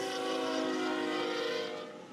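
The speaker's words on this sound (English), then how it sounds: "I'm sorry for getting interrupted by the horn." Horn of a Norfolk Southern trash train, a 63-foot consist, blowing one long, steady, harmonically rich blast that fills the whole stretch, loud and close, before easing slightly at the end.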